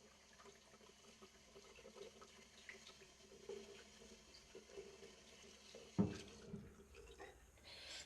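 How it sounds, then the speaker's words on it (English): A bathroom tap runs steadily as water wets a face before shaving, a faint continuous trickle with a brief louder splash near the end and no talking. "let me get my face wet for the lather"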